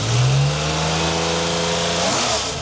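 Air-cooled 4.4-litre flat-six from a custom Porsche 911 build revs steadily and loudly, its pitch holding high before dropping and rising again near the end, heard alone with no voices.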